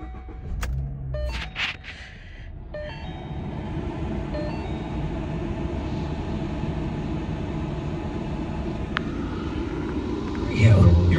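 A 2014 Ford Mustang Premium convertible with 49,000 miles starts up, followed by a steady, moderately loud engine rumble heard from inside the car. The idle stays even throughout and ends with a slight swell.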